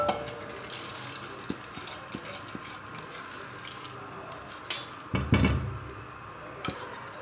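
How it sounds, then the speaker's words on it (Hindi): Mash dal lentils going into a cooking pot in a kitchen, scattered light clinks and knocks of metal cookware, then a short heavy rattling pour, all fairly close with no voices. "अब इसमें मैं दाल शामिल कर रही हूँ।"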